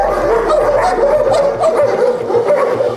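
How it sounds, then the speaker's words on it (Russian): A Belgian Malinois, a working service and search dog, barks and yips repeatedly at close range, loud and insistent, with a whimpering edge between barks. "на смену служебно-розыскной собаки Мирте пришла бельгийская овчарка Малинуа Бес"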